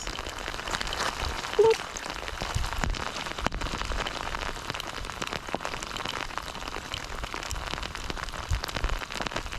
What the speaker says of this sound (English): Just as we get rain all over the lens.